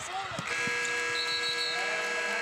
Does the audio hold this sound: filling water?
no